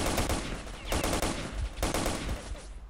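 Gunfire in the shooter game S.T.A.L.K.E.R.: Lost Alpha, with a few loud, heavy bursts of automatic fire in quick succession, close and booming.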